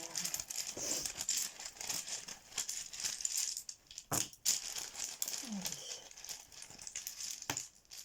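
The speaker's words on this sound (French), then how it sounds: "Donc je vais bien mélanger pour avoir des petits messages supplémentaires." Papery rustling and light flicking of small number and letter cards being shuffled by hand, continuous close crinkling with a few sharper snaps, no talk.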